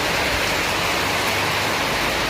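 Heavy rain pours steadily at an outdoor Saturday vegetable market, a dense, even hiss of water filling the whole clip with no pauses and no voices.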